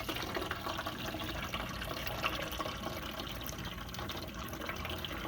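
Water poured from plastic cones into a cylinder splashes and trickles faintly and without a break, with small spills and drips in a quiet room and no talking.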